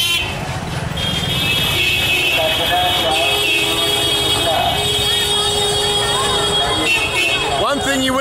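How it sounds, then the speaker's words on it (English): Varanasi street traffic with car and motorbike horns, sustained high tooting layered over the rumble of engines, continuous and busy at close to mid distance, with people talking over it. "is how much Indian people love to blow their horns on cars, on motorbikes"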